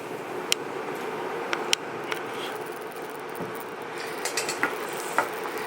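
Shrimp, garlic and pepper are tossed in a stir-fry pan, a steady close sizzle broken by sharp metallic clinks and scrapes of utensils against the pan at irregular moments.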